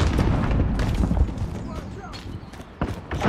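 A frag grenade goes off in Call of Duty: Modern Warfare multiplayer, a loud, boomy blast early on with crackling debris and further thumps afterward, under shouted game voice callouts.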